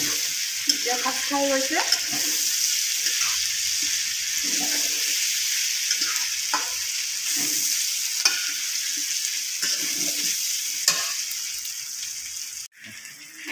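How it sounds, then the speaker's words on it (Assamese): Mutton curry stirred in a hot pan, with a steady sizzle and frying crackle and intermittent scraping strokes of the spoon, close and fairly loud, while a voice speaks briefly. "এতিয়া মই লাৰি দিছোঁ।"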